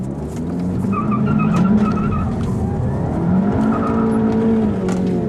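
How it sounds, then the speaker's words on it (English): A 2014 Audi TT 45 TFSI spins its wheels with traction and stability control off: continuous loud tire squeal and skidding over a straining engine, close and unbroken for several seconds. "So you will have spinning wheels"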